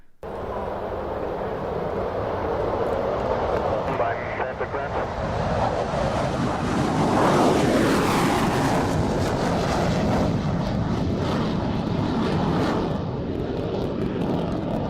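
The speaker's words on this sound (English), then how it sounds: "Let's bring on I think it's an F-18." A loud F-18 jet roars past at an air show, a dense, wind-buffeted rumble that swells into a sweeping pass around the middle and keeps thundering steadily to the end.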